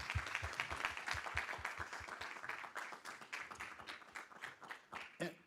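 Audience applause at a university homecoming address, with a steady spread of clapping sustained for several seconds, moderately faint in a large hall.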